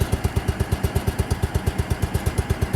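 A Case 224 garden tractor engine runs steadily while mowing heavier grass, a loud, close, rhythmic chugging with an even beat of regular pulses and no talking.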